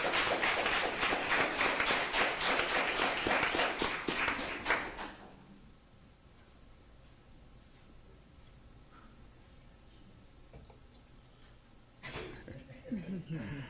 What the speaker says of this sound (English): Let's give a big round of applause to all of our C-rated schools.